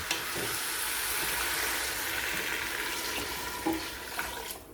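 Water pours into a hot pot of vegetable soup, a loud steady hiss and sizzle filling the whole stretch, with a few faint clinks near the end.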